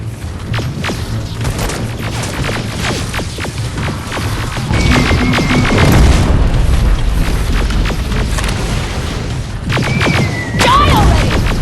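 Grenade explosions in the shooter game Terminator: Resistance come as repeated loud, heavy booms over a dense rumble of gunfire and battle noise, with some brief tonal whines between the blasts.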